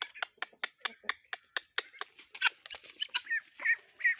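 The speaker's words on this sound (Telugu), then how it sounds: "గిన్నె కోళ్ళు" Guinea fowl call in a run of sharp, rhythmic, repeated cries, loud and close, later turning into faster, overlapping squawks from several birds.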